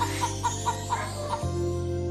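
A big, strong rooster gives a run of about six evenly spaced clucks over a steady low hum, close and clear, with no talk.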